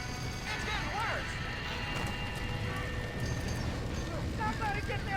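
Horses in a burning barn in the video game Red Dead Redemption, whinnies and hoof clatter rising through a dense wash of fire noise and background game sound, with shouting voices mixed in.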